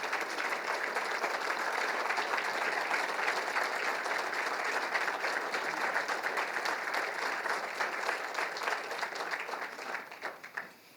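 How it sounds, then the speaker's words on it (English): Banquet audience applauding emeriti faculty and staff at a 50th anniversary gala, a long, even wash of many hands clapping that holds steady for about ten seconds before tapering off at the end. "I feel like we could even keep clapping longer."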